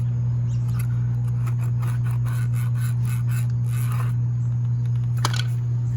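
A pencil traces a scribe line along a board for fitting floor tile, giving soft, intermittent scratchy strokes close up over a constant low hum.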